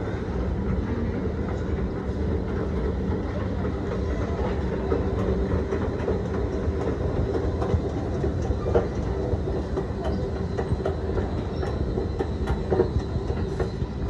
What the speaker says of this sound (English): Oh, the train station right there.